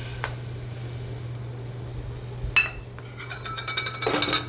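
Coarse wheat with almonds roasting in oil in a pan, a steady low sizzle broken by scraping stirs and clinks of a spoon against the pan toward the end.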